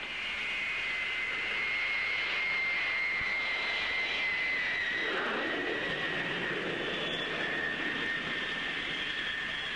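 A Handley Page Victor B.1 jet bomber, powered by four Armstrong Siddeley Sapphire engines, roars steadily overhead, a loud continuous engine drone with a high whine that shifts in pitch as it passes.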